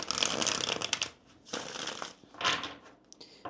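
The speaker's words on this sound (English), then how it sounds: "Let's go ahead and shuffle the cards here." Tarot cards are shuffled by hand in quick riffling bursts, three close, crisp flurries separated by short pauses, with no talking.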